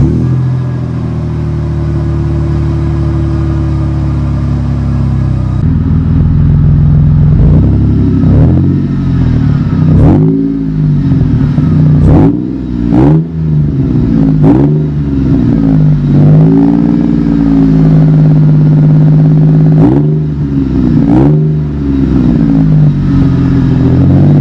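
A supercharged 3.4 liter V6 engine in a 2001 Toyota Tacoma pickup cranks and catches, then idles with a steady rumble between several sharp revs that rise and fall, loud and close.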